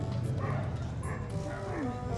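Dogs in a busy outdoor setting on the Montmartre hill in Paris, with yips and bow-wow calls blended into a steady crowd murmur and nearby talk.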